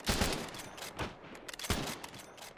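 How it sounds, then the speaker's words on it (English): Arma 3 rifle gunfire cracks in sharp separate bursts, a few loud shots spaced about a second apart with smaller impacts between, including a bullet striking a sandbag close by. "That hit the sandbag literally in front of me"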